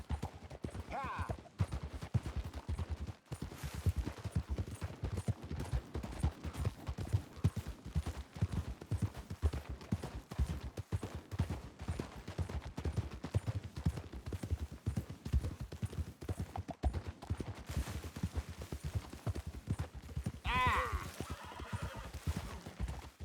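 Horse hooves clatter in a rapid galloping rhythm in Red Dead Redemption 2, steady and close throughout, with occasional whinnies and brief spoken voices over the hoofbeats.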